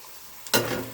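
Egg, potato and drumstick curry is stirred in a pan, with a sudden loud sizzling burst partway through that continues steadily to the end; no talking.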